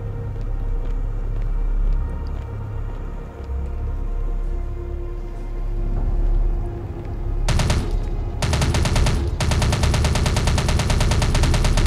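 Weapons fire in the cyberpunk VR game Distortion: a quiet ambient stretch, then from about the middle onward loud, rapid bursts of shots with only brief gaps between them.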